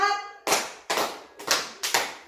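Four sharp hand claps in a slow counted beat during a classroom session, each clap a crisp, close burst spaced roughly half a second apart, following a brief stretch of voice at the start.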